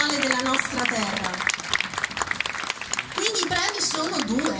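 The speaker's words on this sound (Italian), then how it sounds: "vorrei gentilmente chiedere un altro applauso per la signora" Audience applause at an award ceremony in the ancient theatre of Taormina, Sicily, during a classical music festival, a dense spread of clapping with a voice speaking over it throughout.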